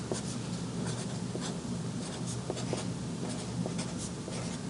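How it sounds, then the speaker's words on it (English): Chalk or marker strokes scratching across a board as a teacher writes out words, a steady run of short scrapes and taps over a low room hum. "let me write it out"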